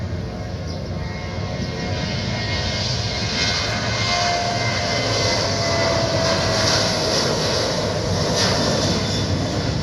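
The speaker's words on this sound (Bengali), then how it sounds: "প্লেন আসতেছে" An airplane passes over Uttara, Dhaka, near the airport, a loud steady roaring engine drone that fills the whole stretch without fading and has no talk over it.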